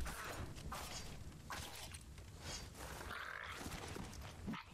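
An enemy frog croaks in the video game Tails of Iron, giving a few low guttural croaks among game sound effects.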